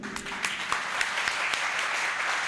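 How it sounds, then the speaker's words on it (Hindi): A seminar audience claps for themselves, a moderate, steady round of applause in a room with a few sharper individual claps standing out, fairly even throughout. "So let's clap for ourselves."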